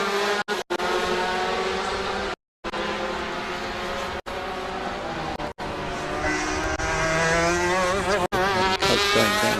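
Superkarts race around the Donington Park circuit, their engines a loud, continuous high-revving drone with rising and falling harmonic whines, broken by brief dropouts in the sound.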